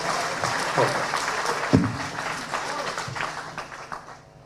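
Audience at a Hindi comedy poetry gathering breaks into applause, a loud burst of clapping with crowd murmur that gradually thins and fades toward the end, with voices mixed in.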